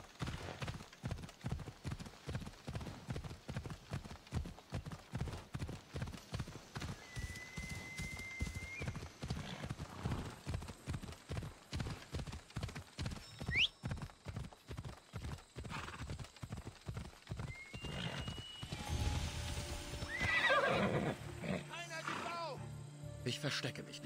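Horse hooves clip-clop at a steady gallop through most of the passage in the Assassin's Creed video game, loud and close, with a whinny and other game sounds near the end.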